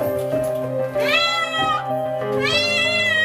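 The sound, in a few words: cat meowing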